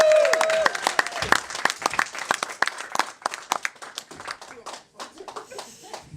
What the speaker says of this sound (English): please give a huge round of applause to James Hammond